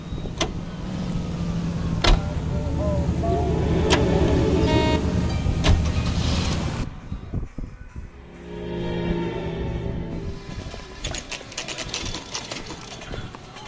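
Car in the video game L.A. Noire driving along, an engine hum with several sharp clicks, then a drop as the vehicle stops and the hum resumes.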